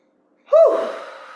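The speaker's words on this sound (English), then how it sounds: "I invite you to take deep diaphragm breaths." A single deep diaphragm breath blown out forcefully through the mouth, close and loud, a sharp onset fading into a long breathy exhale.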